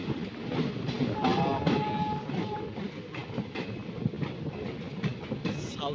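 Sengottai 16102 Kollam Express rumbling through a long railway tunnel on a jungle route, a loud, steady, dense roar of wheels and carriage noise with faint rhythmic clatter throughout, no voices.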